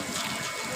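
Water gushes steadily from a tap, a brief continuous hiss and splash, loud and close with no pauses.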